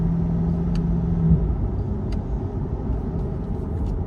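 A 2020 Corvette Z51 3LT in comfort mode gives a low, subdued engine rumble with steady road noise heard from inside the cabin.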